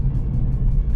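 Low, steady exhaust rumble from an Alfa Romeo Brera 3.2L V6 JTS Q4 on the road, a deep continuous drone heard from inside the car, loud and unbroken.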